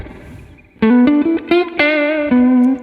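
An electric guitar played through a Fender Twin Reverb amp with 2x12 speakers and spring reverb plays a short bluesy phrase of distinct picked and bent notes, clean and close, each note trailing a soft reverb tail.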